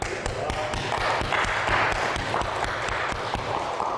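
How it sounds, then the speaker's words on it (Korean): A church congregation applauds during a sermon, with dense, steady clapping filling the whole stretch at a fairly loud, even level. "박수."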